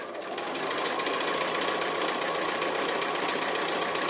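Domestic sewing machine stitching a tree silhouette onto fabric, a steady close whirring drone running continuously without pause.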